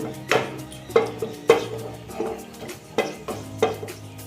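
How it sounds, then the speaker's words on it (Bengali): A spoon stirs whole cinnamon, cardamom and cloves in a pan for chire khichuri. It makes close scraping knocks in a regular rhythm, about seven strokes, each with a light sizzle. "এটা একটু নাড়াচাড়া করে নেব"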